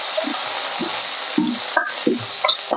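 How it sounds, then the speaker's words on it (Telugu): Tempering spices fry in hot oil for a bottle gourd dish, a close, steady sizzle with a few soft stirring scrapes and taps from a ladle in the pan; no one speaks. "ఇదిగోండి తాలింపు వేగింది"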